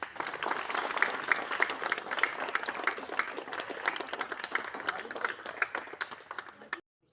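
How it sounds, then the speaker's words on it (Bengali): A Republic Day speech audience gives a long, steady round of clapping that is dense and moderately distant, then stops abruptly near the end. "সবাই জোরে করতালি দাও।"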